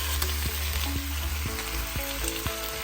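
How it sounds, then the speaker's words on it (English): Beef cubes for a Mexican beef soup sear in hot oil in a skillet, giving a steady, close, dense sizzle with a few soft clicks and taps of the pan throughout, and no voices. "Carefully place the beef cubes in a single layer, no overcrowding."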